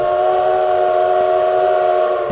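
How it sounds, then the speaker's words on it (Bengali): A train engine whistle sounding one long, steady, loud tone, alone with no talk. "হঠাৎ শোনেন ইঞ্জিন হুইসেল দিল"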